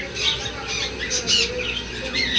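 A pair of albino cockatiels gives repeated harsh, shrill squawks and chirps close by, in short bursts over a low background murmur.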